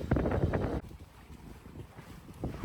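Cruising catamaran sailing at sea, with a burst of wind buffeting and water rushing against the hulls, then a quieter steady wash of waves and breeze.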